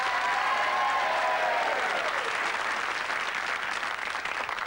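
A studio audience applauds a departing quiz show contestant with steady, dense clapping that fills the clip, loud and close, easing slightly toward the end.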